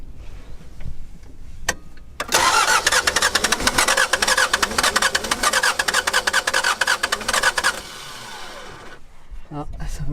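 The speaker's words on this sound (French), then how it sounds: "la voiture ne démarre pas" A diesel van with dual glow-plug preheating cranks on a remote high-altitude plateau in Ethiopia but fails to start: a click, then a long rapid rasping starter churn of about five seconds that cuts off, followed by quieter mechanical sounds.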